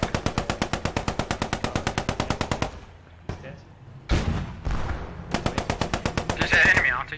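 Enemy automatic gunfire in a tank battle video game, rapid evenly spaced bursts in long strings with brief pauses, loud and close, with players talking over it.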